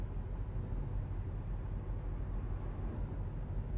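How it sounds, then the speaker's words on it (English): Steady low engine drone and road rumble from a new Volvo VNL truck running its stock engine, cruising at an even pace, heard from inside the cab, continuous and without voices. "this sounds pretty good for a stock truck"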